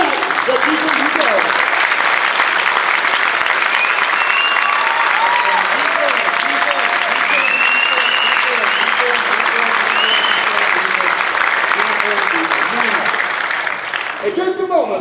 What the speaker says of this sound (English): give my big, I guess my volunteers up here tonight, a big round of applause